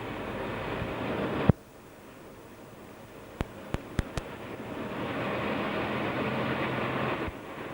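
A 1990s Ferrovie dello Stato direct passenger train, number 2844 with an E.646 locomotive, runs on the Udine–Trieste line near San Giovanni al Natisone. Its steady rumble drops out abruptly, a few sharp clicks follow, then the rolling noise builds again.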